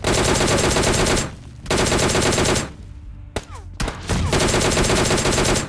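Loud automatic gunfire from a video game rattles in long bursts, with a short pause, a few single shots, and then another sustained burst.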